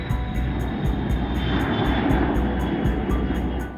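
Engines of a Boeing E-3A AWACS surveillance aircraft with a rotating radar dome, a loud steady roar holding throughout and easing slightly at the end, with no talking.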